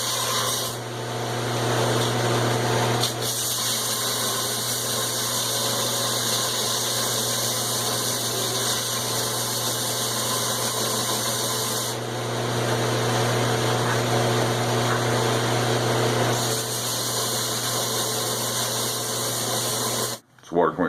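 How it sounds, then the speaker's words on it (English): Angle grinder on a forged 1045 steel straight peen hammer head, a steady loud whine and hiss running nearly continuously with brief dips, someone talking over it. "Bring it on for a little bit of grinding."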